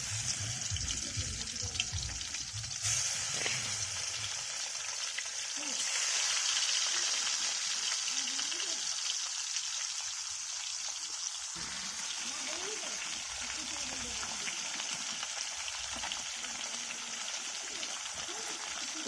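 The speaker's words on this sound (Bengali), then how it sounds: "তেল গরম হয়ে গিয়েছে, এবার আমি একটা একটা করে মাছগুলো ভাজার জন্য ছাড়ছি।" Koi fish being dropped one by one into hot oil, giving a steady, bright hissing sizzle that runs throughout, with faint voice and kitchen clatter underneath.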